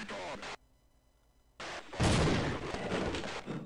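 A mounted gun fires in Half-Life. A short burst is followed by a pause, then louder, sustained heavy firing with an intense roar, and a voice is heard speaking over the start.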